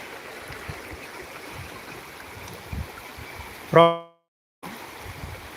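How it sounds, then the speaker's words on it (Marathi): Flooded Gaidhara river at Manjari village after heavy rain, a steady broad rush of flowing water heard from nearby, briefly interrupted by a loud tonal horn-like blast and a short dropout near the end. "दिस इज गायधरा नदी गायधरा रिवर ऑफ मंजरी व्हिलेज"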